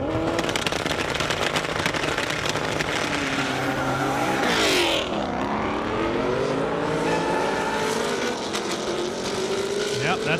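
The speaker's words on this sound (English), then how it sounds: "that's Ben Stoner and Tom Brett's GT350R and an 18 Mustang. Here we go. Look like a good run there" Ford Mustang GT350R and a 2018 Mustang launch side by side at an airstrip drag race, engines roaring loud and continuous with rising and shifting revs as they pull away, while a commentator talks over the noise.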